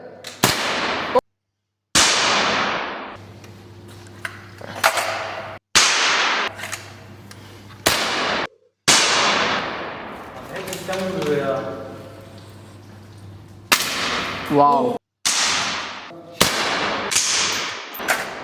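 Airsoft guns fire a rapid string of sharp, loud cracks, mostly in separate bursts with short gaps between them, while people talk and shout close by.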